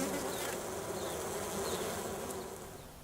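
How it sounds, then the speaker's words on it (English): Honeybees flying between hives and orchard blossoms make a dense, steady buzzing drone, close and continuous, with individual bees swooping past now and then and the hum fading slightly at the end. "the bees, sensing rich pickings, were soon busily flying hither and thither between the hives and the blossoms"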